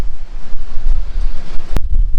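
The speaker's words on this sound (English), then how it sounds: "If you can hear me on this windy day, it's pretty windy out here." Strong wind on a beach by a boardwalk in Myrtle Beach buffets the microphone in a steady low roar, with a faint surf-like wash underneath and a sharp knock near the end.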